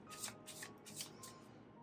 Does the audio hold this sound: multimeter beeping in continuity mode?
no